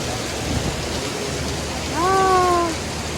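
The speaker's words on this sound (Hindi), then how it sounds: "आज हो रही है खतरनाक वाली बारिश, ये देखिए" Heavy rain pouring outside in Noida, a dense, steady hiss filling the whole stretch, with a brief tonal cry rising over it near the end.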